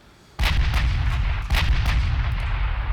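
Battleship main guns fire in the naval warfare game Ultimate Admiral Dreadnoughts, a rapid series of heavy, booming salvos over a constant low rumble, each shot sharp and close with no talking.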